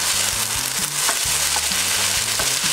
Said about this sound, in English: here we're going to throw in our beaten egg, and just when it begins to settle at the bottom of the pan, we're going to add our rice